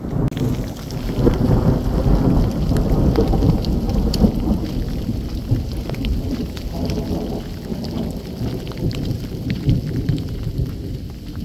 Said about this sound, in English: a nice downpour.